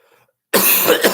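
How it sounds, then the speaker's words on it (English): A single sharp cough bursts out suddenly after a moment of silence, close and loud, from a girl downstairs in a home. "Here's my daughter downstairs coughing too."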